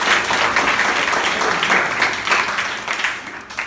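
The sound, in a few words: schoolchildren clapping for themselves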